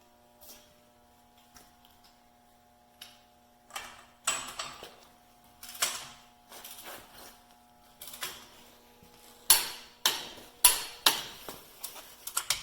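A torque wrench tightens the lower ball joint on a Dana 60 axle to 150 foot-pounds. Sparse mechanical ticks turn into louder, rapid ratcheting clicks in close bursts.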